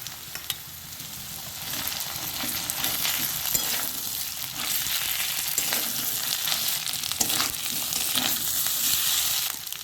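Ginger and cumin paste frying in hot oil in a pan for a bottle gourd and shrimp curry, a bright steady sizzle with intermittent stirring scrapes, close up and alone.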